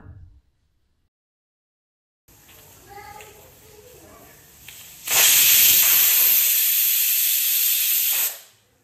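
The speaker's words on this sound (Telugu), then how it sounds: "మూత పెట్టి మీడియం ఫ్లేమ్లో త్రీ విజిల్స్ వచ్చే వరకు ఉడికించుకోవాలి" A pressure cooker cooking peanuts and gongura leaves gives a steady hiss that swells into a loud, sustained jet of steam whistling for about three seconds before cutting off, after a quieter stretch of low kitchen noise.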